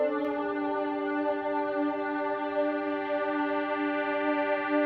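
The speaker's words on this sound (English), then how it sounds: "it's kind of a detuned drone, and then we have what looks to be just a non-detuned drone" Sustained detuned synth drone pads from an organ house track, a steady, even chord that holds without breaks or rhythm and stays at constant loudness throughout.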